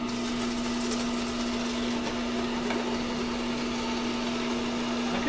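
A GreenStar Elite juicer running with a dry carrot gives a steady, even mechanical hum with a fixed tone and light grinding texture, close and continuous with no talking.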